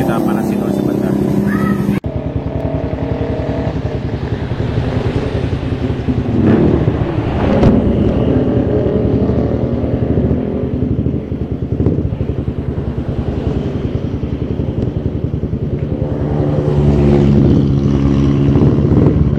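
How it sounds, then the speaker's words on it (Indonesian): A Suzuki Satria FU motorcycle, recently repaired for an oil seep and a battery problem, idles steadily as it warms up. A loud, continuous engine drone sits close to the microphone with slight wind buffeting. "Sekarang kita panasin dulu sebentar."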